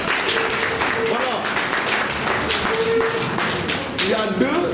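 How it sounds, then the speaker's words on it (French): An assembled audience at a school equipment ceremony in Sokone claps for honoured mining-program champions, a busy, loud patter of hands mixed with taps, thuds and overlapping voices. "applaudissez fortement pour eux"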